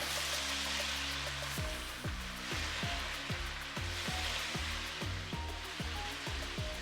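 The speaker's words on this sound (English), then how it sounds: "you wanna just continue to stir those vegetables down until they come to, until they cook down" Vegetables stir-fried in a hot pan give a steady, loud broadband sizzle that carries on without a break, with soft scraping and tapping from the stirring running through it.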